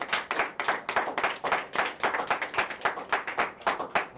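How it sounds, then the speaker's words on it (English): Audience at a military ceremony clapping for new Space Force enlistees, a fairly small group giving distinct, rhythmic claps at moderate volume without talk. "let's all give them one more round of applause"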